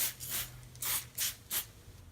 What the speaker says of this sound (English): spray that parchment paper. Make sure you spray it down pretty good.